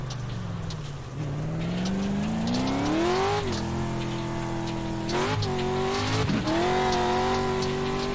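A race car engine in a racing video game revs and climbs through gears, pitch rising and dropping at each shift, with tire squeal and skids layered on top, loud and close throughout.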